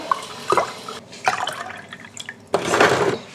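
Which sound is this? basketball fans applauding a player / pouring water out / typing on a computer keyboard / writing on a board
pouring water out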